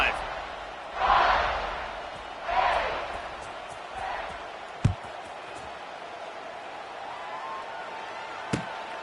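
Stadium crowd noise in the football video game NCAA 26: a steady distant rumble with a few swelling roars, two sharp thuds, and play-by-play commentary over it.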